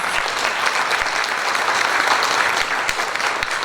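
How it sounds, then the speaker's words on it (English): An audience gives a round of applause at an employer recognition event, a sustained, even wash of many hands clapping throughout with no break. "So please give them a round of applause."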